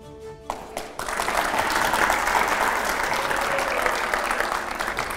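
After a brief tone and a short gap, an audience at a televised interview with Sachin Pilot breaks into loud, continuous applause that holds steady to the end.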